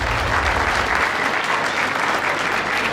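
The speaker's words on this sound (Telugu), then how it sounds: "మీరు క్లాప్స్ కొట్టాలి ఇప్పుడు." Steady, dense applause from an audience at a junior college event in Sangareddy, continuous and fairly loud throughout with no break.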